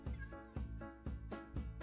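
A cat meows repeatedly outdoors, four drawn-out calls in a steady rhythm, fairly close and moderately loud, with no talking over them.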